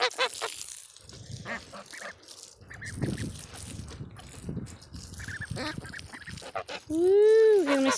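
Ducks quack and geese honk while splashing in water, with a loud, close honk near the end; a person talks and whoops throughout.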